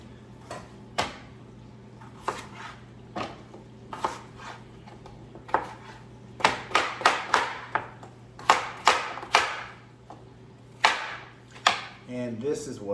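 A knife cutting potatoes on a board, about twenty crisp, irregular chops and slices at close range over a faint steady hum, with no speech.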